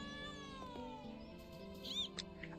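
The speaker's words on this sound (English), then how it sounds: "I'd gotten within interact range of that cat" A cat in the video game Trials of Mana gives a short, faint, rising meow over a soft sustained musical background.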